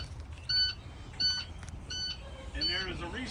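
A student alarm at the back of a bus beeps in short repeated bursts, about three evenly spaced beeps followed by a lower tone as it is reset, over low engine rumble.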